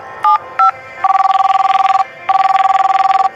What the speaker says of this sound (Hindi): देर रात तक देव घर नहीं आया तो इशिका ने उसे कॉल किया,